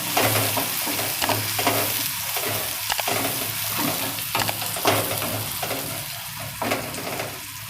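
Onion and tomato masala sizzling in a pan for Kathiyawadi dhokli curry, stirred constantly with a spoon, producing a loud close frying hiss with regular scraping strokes and occasional soft clinks.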